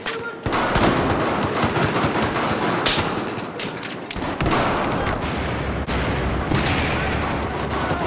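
Battlefield 4 gunfire on the Second Assault map, played on PS4. Dense, loud automatic weapon bursts and rattling volleys run almost nonstop, with explosive booms mixed in.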